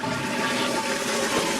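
A toilet flush from the science fiction horror film Terrorvision: loud, continuous rushing and swirling water that fills the whole moment, with no voices.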